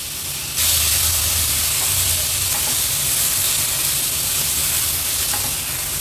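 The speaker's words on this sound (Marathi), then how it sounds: "टोमॅटो देखील कांद्यासोबतच मीडियम फ्लेमवर मिक्स करून घ्यायचे आपल्याला" Chopped onion and tomato sizzle loudly on a medium flame; a hiss jumps up sharply as the tomato goes in, then a dense, steady frying crackle holds with faint stirring, no talking.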